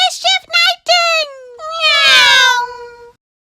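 A cat meows several times in quick short bursts, then lets out one long drawn-out, rising and falling meow, close and loud.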